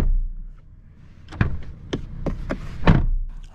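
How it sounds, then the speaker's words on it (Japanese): Several short, muffled thuds and taps from inside a new Renault Lutecia (Clio) Intens, ending in a firmer thunk as the door shuts, over a low rumble. "ドア閉めるとこんな音ですね"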